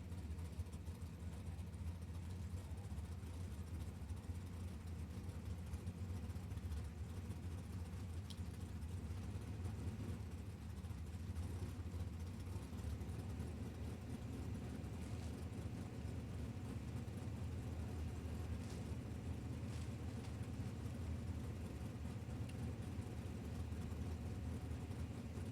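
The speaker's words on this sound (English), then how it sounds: "I love the sound of this little small block Mopar here" A small block Mopar drag racing car engine drones steadily at a distance at an NHRA drag strip, with a continuous low rumble that holds throughout.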